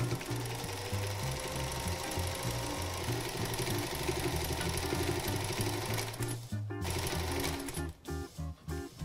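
Sewing machine stitching a hem along the edges of a cotton pillowcase being made into a grocery bag, a steady close whirring run that stutters into short stop-start bursts near the end.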